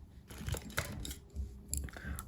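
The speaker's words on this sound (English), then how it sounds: "Scissors." Scissors handled up close, a few short metallic snips and clicks at an irregular pace over quiet room tone.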